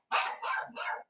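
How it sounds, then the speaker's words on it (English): A dog barking indoors, three quick close barks in a row, moderately loud against an otherwise silent background. "just trying to get the dog to stop barking"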